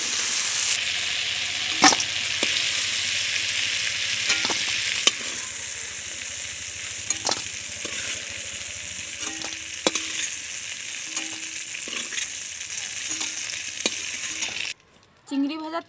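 Shrimp fries lightly in hot oil in a village kitchen, giving a steady bright sizzle with occasional clicks and scrapes of stirring, close and continuous until it cuts off near the end.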